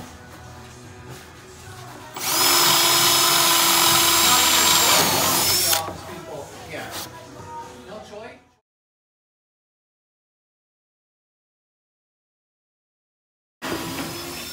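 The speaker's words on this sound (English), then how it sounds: "This is a FISCH wave cutter. And you'll see right now how fast these drill." A power drill bores wood with a FISCH wave cutter Forstner bit during a bench build. It is a loud, close whine lasting a few seconds that fades as it slows, then silence, then a brief return.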